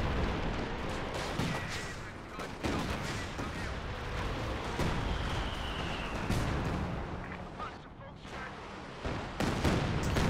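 Rocket artillery and explosions rumble through a Company of Heroes 2 match as a Katyusha barrage strikes a base, with dense, continuous booms and crackling impacts that swell and recede across the whole stretch.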